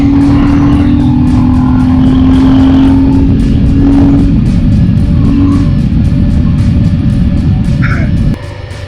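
A Royal Enfield Himalayan 450 motorcycle ridden off-road gives a loud, close, continuous engine drone with wind buffeting. The sound drops sharply near the end.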